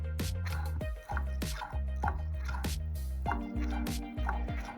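Brake fluid bubbles and drips during a bench bleed of a Toyota 4Runner SR5 brake master cylinder, repeating as a rhythmic series of wet plops and gurgles about every half second, close and fairly quiet.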